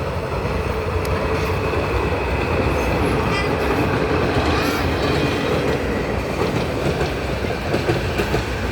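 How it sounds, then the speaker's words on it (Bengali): A local passenger train rumbles past loudly and continuously, wheels clattering over the tracks with a dense roar and occasional metallic squeals. "এই যে দেখতে দেখতে একটা ট্রেন আসছে, যদি লোকাল ট্রেন"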